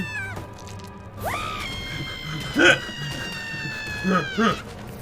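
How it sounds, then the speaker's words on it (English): Shrill, wavering cries rise out of a murky background, a long drawn-out wail followed by several shorter, sharp squeals, like a creature screaming at moderate distance. "More screaming."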